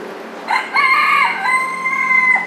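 A chicken crows once, loud and close, in a single drawn-out call lasting about two seconds, with no talking.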